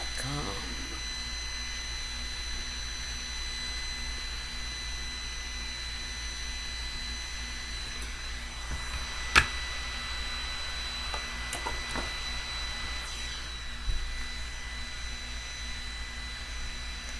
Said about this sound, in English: This is my little personal face fan that I got off of Wish.com.